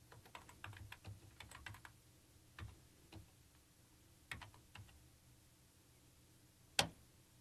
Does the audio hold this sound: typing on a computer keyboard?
yes